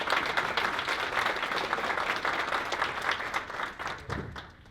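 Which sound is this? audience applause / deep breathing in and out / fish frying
audience applause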